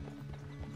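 A horse in Red Dead Redemption 2 clip-clops along at a steady walk, hoofbeats close and even, with a faint whinny running underneath for less than a second.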